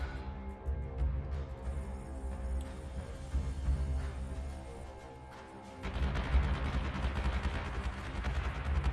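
Flak guns firing from a Battlestar in the space battle game Battlestar Galactica Deadlock; a dense, continuous rattle of distant gunfire over a low rumble, growing harsher and louder in the last few seconds.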